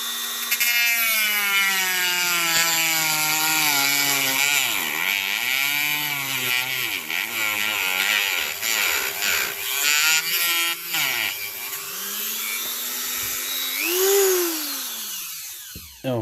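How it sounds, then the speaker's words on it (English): A Dremel rotary tool fitted with a diamond-coated cut-off disc grinds through a plastic panel, a loud continuous high whine that dips and recovers in pitch as it bites into the material, with no talking. "So we're just using the Dremel."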